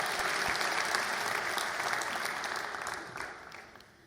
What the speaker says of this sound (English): join me in a round of applause for my family